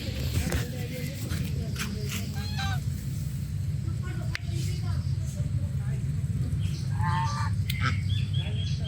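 Ducks at a tree house resort near Jaipur give scattered honking quacks close by, heard under a person's steady talking.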